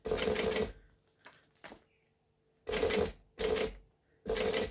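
A sewing machine stitches slowly around a bend under a flap, in three or four separate bursts of steady whirring with short pauses and a couple of faint clicks between them.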